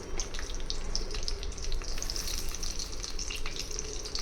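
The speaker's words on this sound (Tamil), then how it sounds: "சேர்த்துட்டு நான் கட் பண்ணி வச்சுருந்த கத்திரிக்காயை நல்லா வந்து வதக்கி எடுத்துக்கலாம்" Cut brinjal sautéing in sesame oil in a pan, a steady, soft, close sizzle with faint crackles throughout and no voices.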